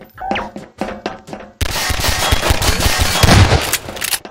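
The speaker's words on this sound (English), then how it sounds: "Whoa, he's got a shotgun now." Shotgun fire in a video game, a few sharp blasts at the start followed by a dense, loud stretch of rapid booming gunfire and impacts.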